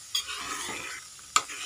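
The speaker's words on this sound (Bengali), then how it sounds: "আর হালকা হালকাভাবে নাড়া দেবে যাতে সব গলে না যায়।" A broken-rice dish is stirred gently in a pot. Two sharp metallic clinks of a spoon against the pot, about a second apart, sit over a faint bubbling simmer. No one talks.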